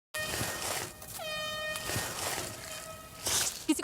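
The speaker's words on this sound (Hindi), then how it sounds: "हॉर्न बज रहा है, शायद हमारी टीम ने ढूंढ ली" An air horn blows outdoors in a survival challenge, a loud sustained harmonic blast followed by a second shorter blare, with faint rustling around it.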